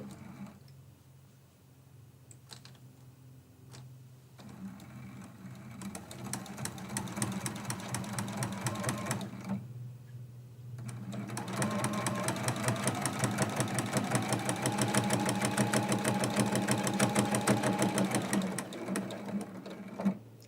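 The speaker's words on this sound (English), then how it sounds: "we're going to bring this in and stitch it from the back side" A sewing machine stitches a flannel quilt block from the back side in bursts of fast, rhythmic needle hammering, close and steady. Brief pauses break the runs, then it resumes and stitches longer. No one speaks.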